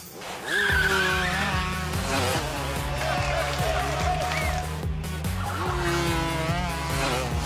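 A white Albacorp go-kart in a LEGO Friends cartoon overtakes with high-pitched tires squealing and skidding over a steady buzzing engine drone, several rising screeches repeating throughout under animated racing music.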